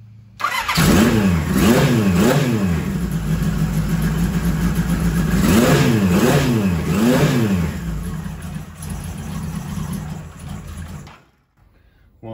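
A cold 1978 Kawasaki KZ1000 Z1-R motorcycle engine fires up and revs in several rising and falling bursts, then settles into a rough, uneven idle before cutting out, loud and close.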